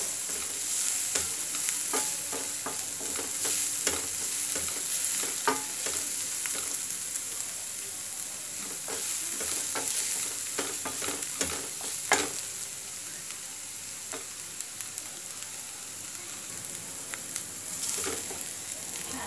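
Rice and meat with garlic fry and are stirred in a pan: a continuous soft sizzle with scattered scraping and clicking stir strokes, close and moderately quiet, with no talking.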